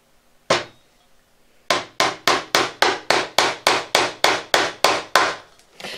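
A single sharp tap, a pause, then a fast, even run of about fourteen crisp upholsterer's hammer taps, close and loud.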